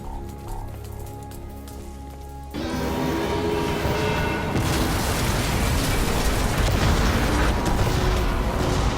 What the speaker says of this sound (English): Lots of explosions. Something's going down here.